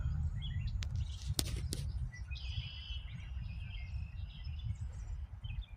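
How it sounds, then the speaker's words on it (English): Birds chirp outdoors on a warm spring day, with faint, scattered tweets and calls over steady low wind rumble and a few sharp clicks up close. "it's beautiful hearing all the birds chirping"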